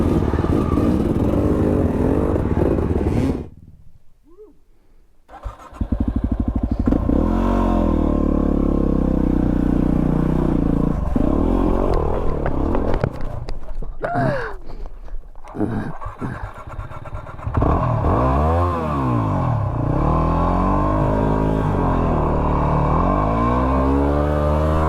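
Enduro dirt bikes, including a 300 two-stroke and a Yamaha WR250R, rev and labor up a muddy single-track trail after rain, with loud sustained engine drone, a brief drop near silence, then rising throttle blips.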